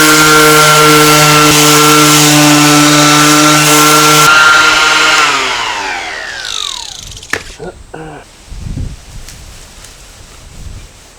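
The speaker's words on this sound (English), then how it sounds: "so a bit more sanding" A loud, steady mechanical whine of a power sander on a fiberglass car front bumper grinds on for several seconds, then winds down with falling pitch, followed by scattered handling knocks and scrapes.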